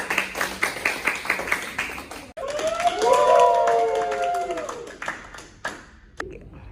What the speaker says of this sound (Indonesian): Boleh beri tepuk tangan terlebih dahulu untuk kelompok